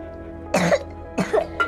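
Two or three short, dry coughs in quick succession over a low steady hum, fairly close.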